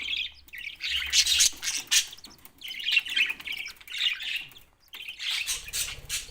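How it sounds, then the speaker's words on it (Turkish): Several cockatiel chicks squawk and chirp in bursts close by, with short gaps between the shrill begging calls and no talking. "Şu an 5 tane sultan papağan yavrumuz var."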